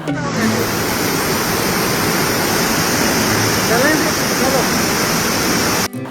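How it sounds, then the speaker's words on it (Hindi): Tirathgarh waterfall, a step-like cascade in the Kanger Valley forest of Chhattisgarh, roars as a loud, steady rush of falling water that fills the whole moment before cutting off abruptly. "तीरथगढ़ जलप्रपात, सीढ़ियों जैसा झरना।"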